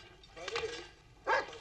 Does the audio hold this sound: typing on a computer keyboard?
no